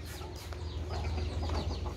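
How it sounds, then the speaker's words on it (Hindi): Chickens clucking nearby as grain is scattered for them, several birds giving short overlapping clucks at low, fairly quiet volume. "ये सारी मुर्गियाँ"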